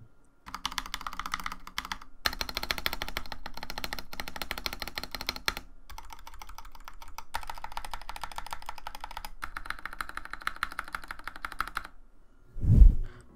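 A 100 Thieves Geostone mechanical keyboard with stock Gateron Red switches and thick 1.4mm keycaps is typed on steadily, giving a dense, fairly deep clatter with brief pauses and a heavier thump near the end, no voices.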